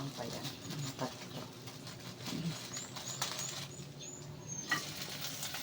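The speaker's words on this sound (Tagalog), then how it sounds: "Oh, prito pa ng tuyo." Dried fish (tuyo) frying in a pan gives a quiet, patchy sizzle and light crackle, with soft stirring clinks and scrapes and some faint background noise.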